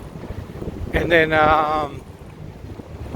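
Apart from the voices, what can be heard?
wind blowing on a city street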